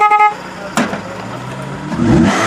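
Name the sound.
PT Cruiser engine running poorly, no alternator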